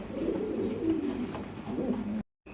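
Fancy pigeons at a pigeon farm in Bangladesh coo softly and repeatedly in low, rolling calls, fairly close and alone, before a short silence at the end.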